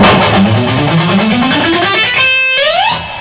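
Electric guitar climbs an ascending major scale starting on G, one note at a time, bright and clean, finishing on a ringing higher note that slides slightly.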